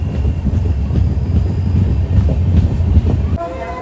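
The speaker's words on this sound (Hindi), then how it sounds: "और ट्रेन जो है वो भी टाइम पर ही चल रही है।" A passenger train on the Haldwani to Dehradun line, running toward Rudrapur City railway station, makes a loud, steady rumble with rhythmic wheel clatter. A short tonal horn-like sound rises at the very end.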